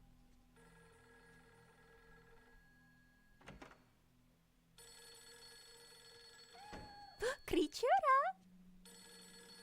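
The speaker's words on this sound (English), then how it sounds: "Gotta answer that phone." A telephone bell rings in short bursts in the Fatal Frame 3 video game, a steady repeating tone over low game ambience, followed by a loud eerie creature call near the end while a voice speaks briefly.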